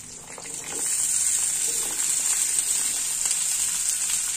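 Chopped amla (Indian gooseberry) drops into hot oil and sizzles loudly, a bright continuous frying hiss that swells after the first second and holds steady, close up with no talking.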